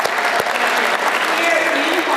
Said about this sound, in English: I need a round of applause for that.